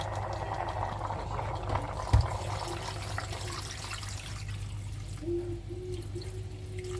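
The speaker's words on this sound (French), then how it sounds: "Et là, je vais mettre de l'eau chaude." Hot water pours into a pot of simmering couscous stew, making a soft, continuous liquid trickle and bubbling with a brief clunk partway through, fairly quiet and close, with no speech.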